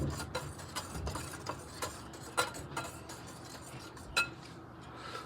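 A utensil stirs dry cookie ingredients with baking powder and salt in a bowl for mint chocolate chip cookies, giving irregular light clinks and taps over a quiet background.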